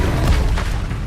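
Confringo blasting spell going off in Hogwarts Legacy, a loud, deep booming explosion that fills the whole short moment with dense low rumble and no talk.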